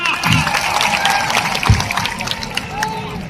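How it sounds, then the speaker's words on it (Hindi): Outdoor crowd applause at a World Tribal Day gathering on the Dungarpur sports ground: a steady, dense wash of many hands clapping for about three seconds, with faint crowd murmur underneath and one brief low thump. "तालियां, जोरदार तालियां।"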